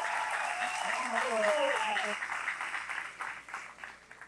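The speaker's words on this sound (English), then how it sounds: "Can you just give them a hand clap?" Audience at a Camp Inspire gathering clapping for the worship team, a dense sustained wash of applause that swells then slowly thins and tapers, with a voice briefly audible over it.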